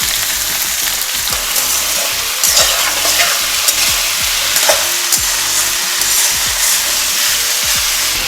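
Washed sesame seeds dry-frying in a pan while being stirred for chutney, loud crackling and popping over a continuous hiss, with repeated close scraping strokes in an uneven rhythm.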